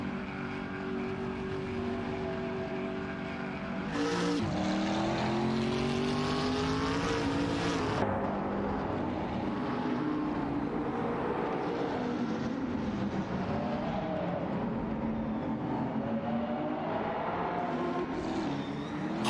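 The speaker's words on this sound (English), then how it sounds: "We're watching AI-driven cars race in a simulator." AI-driven race cars in a racing simulator video game: engine notes whine and sweep up and down in pitch as the cars accelerate and shift, a continuous, fairly loud drone with no talking.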